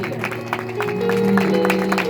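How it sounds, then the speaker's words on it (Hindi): A worship congregation claps hands together in a steady, crowded patter, mixed with sustained tones and voices in the background. "अब यीशु के लिए आंखें बंद करके ताली बजाते रहिए"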